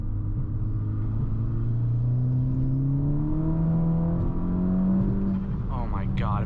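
A front-wheel-drive car accelerates hard through third gear, its engine note rising steadily in a loud, continuous pull with constant road rumble throughout.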